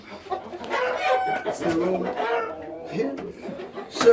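Chickens clucking and crowing nearby in a coop, mixed with someone talking over the birds.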